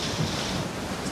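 Ocean surf at Bondi Beach rushes in a brief, steady wash of breaking waves, roughened by wind buffeting the microphone.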